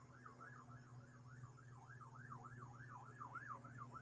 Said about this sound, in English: So sirens are very audible.